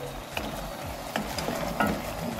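Chickpea stroganoff sizzles steadily in a pan while being stirred, with a continuous frying hiss broken by a few sharp scraping clinks of the utensil against the pan.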